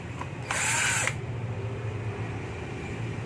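A power screwdriver whirs for about half a second while removing laptop screws, a short high buzzing burst over a quiet room hum.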